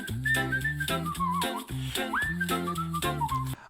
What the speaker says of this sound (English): He's got a really clear whistle and a lot of flexibility and agility in how he moves around